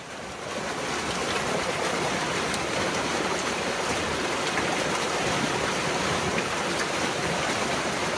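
Steady, loud rush of water pouring out through a shrimp pond drainage outlet during a vannamei shrimp harvest, a continuous broadband roar held close and unbroken throughout with no talk.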